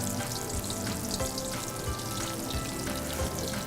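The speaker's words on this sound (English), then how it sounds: "It's time to deep fry the prawns." About twenty tea-crusted spicy prawns deep fry in hot oil, giving a steady, busy sizzle with fine crackles and pops throughout and no talk.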